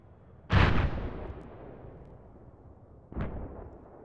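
Two heavy artillery rounds fire in the Arma 3 military-simulation game during a night mission, each a deep booming blast with a long rumbling decay, the second slightly softer, with no voices.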